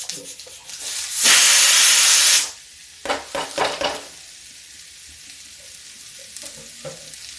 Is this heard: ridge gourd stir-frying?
yes